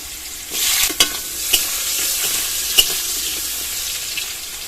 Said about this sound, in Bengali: এই তেলের মধ্যে আলু আর ভেন্ডিটা ভেজে নেব। আগে আলু দিয়ে দেবো।